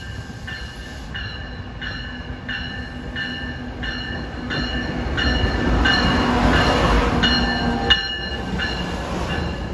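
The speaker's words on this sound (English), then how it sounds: "here comes a bomber train heading into the city" A SEPTA Regional Rail train passes heading into the city, a rumbling roll of wheels on track with rhythmic clicking and a brief squeal, growing louder midway and then easing.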